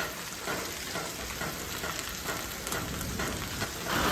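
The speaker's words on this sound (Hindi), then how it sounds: "अब भाई बारिश और भी ज़्यादा तेज़ हो गई है" Heavy monsoon rain drumming steadily on a car while driving on a mountain road, a dense, loud, continuous hiss and patter with no pauses.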